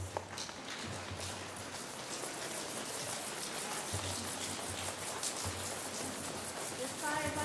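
A worship group pats their hands on their thighs during a Sunday rehearsal, a dense rain-like patter of many hands that swells in rhythmic waves, with voices mixed in.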